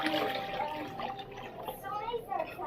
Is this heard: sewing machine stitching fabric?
no